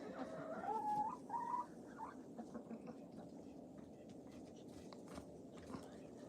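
Rhode Island Red hens pecking at a flock block, soft scattered taps and scratching up close, with short clucking calls near the start and quiet background noise.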